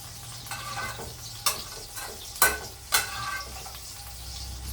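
Bitter melon frying in hot oil, a soft steady sizzle broken by several sharp utensil clicks and scrapes against the pan, close and fairly quiet.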